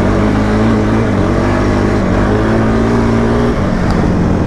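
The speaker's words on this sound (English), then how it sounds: "he's gonna let me try his quad. LTC 400." A Suzuki LTZ 400 quad ATV engine runs steadily close by, a continuous buzzing drone with a slight pitch shift near the end and no voices.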